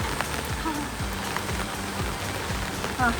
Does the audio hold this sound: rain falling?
yes